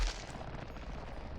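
Bursts of breaking tree parts while chopping trees in the video game Hypixel Skyblock, heard as a dense, continuous crackling rumble of small explosions, loud and close, with no speech.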